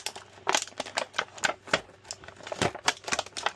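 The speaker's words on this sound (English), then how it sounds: "let's go ahead and get those undone so we can get this guy out of the plastic." Scare Glow action figure being unfastened from plastic packaging, heard as close, rapid, irregular clicks and plastic snaps with brief rustling, no speech.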